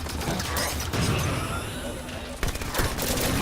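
Submachine gun fire in the video game Halo 5, a dense rattling burst of rapid shots with impacts and mechanical clatter, loud and close, followed by a few sharper cracks near the end.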